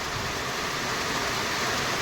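Sudden afternoon rain during hot May weather pours down as a steady, even hiss with no talk, sounding moderately close and constant throughout.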